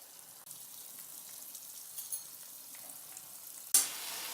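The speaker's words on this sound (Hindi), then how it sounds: "डार्क ब्राउन कलर होने तक हम इसे फ्राई करेंगे।" Veg kababs frying in oil until dark brown give a steady, quiet hiss with no voices, ending in a sudden louder sizzling burst near the close.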